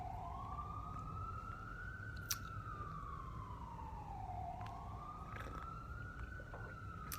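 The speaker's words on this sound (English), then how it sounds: "Can you guys hear the sirens?" A wailing emergency siren rises and falls slowly over steady New York City traffic noise, heard at a distance and fairly faint, with a few brief clanks.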